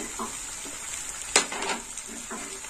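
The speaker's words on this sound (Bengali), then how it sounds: "আর একটু মশলাটা কষে নেব।" Ground coriander, red chilli and turmeric frying in a pan for a brinjal and cabbage curry, with a faint steady sizzle and a few soft spatula scrapes and one brief clatter.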